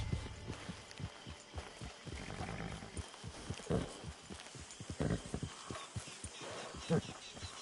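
Hooves clip-clop at a steady trot as a horse is ridden toward a camp in a video game, a fairly faint rhythmic thudding under speaking voices.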